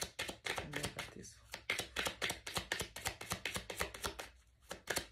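Tarot cards being shuffled, a quick run of crisp, rapid riffles and taps in close succession, near and fairly quiet, with brief pauses between bursts.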